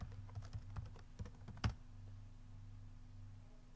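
Fingers tap out a password on a computer keyboard, a quick run of soft clicks close by ending in one firmer keystroke, then quiet.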